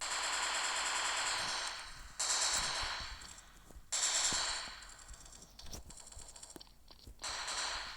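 Bursts of G36C assault rifle fire in a video game: rapid automatic volleys in several separate strings with short pauses between them, fairly loud and close, with game ambience filling the gaps.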